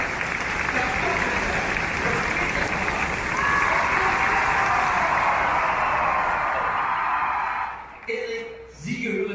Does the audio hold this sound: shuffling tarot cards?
no